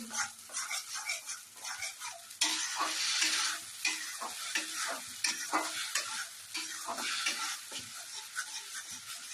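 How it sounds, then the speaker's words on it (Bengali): Amla chutney is stirred in a frying pan, spoon scrapes and clacks repeating over a soft sizzle, close and moderately loud, with a dog barking faintly in the background. "এবার আমি ভালো করে নাড়বো, নাড়তে হবে।"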